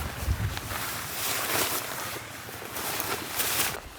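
Wind gusting across an exposed hillside on a solo hike, buffeting the microphone in rising and falling roaring bursts that surge loudly several times over a few seconds.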